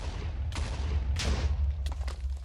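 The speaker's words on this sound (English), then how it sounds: "Explosion." Explosions in the video game Avatar: Master of Elements, three or four sharp blasts with hissing tails over a steady low rumble, each rising sharply and fading quickly, moderately loud, with no talking.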